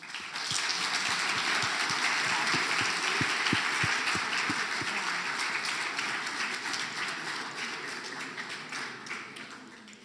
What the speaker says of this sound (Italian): Le facciamo un bel applauso.